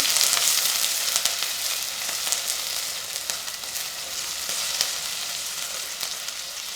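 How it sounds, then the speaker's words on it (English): Chopped onions sizzle steadily in a hot pan for mushroom soup, a continuous crackling hiss with small pops, close and fairly loud. "just let them sizzle away for a few moments"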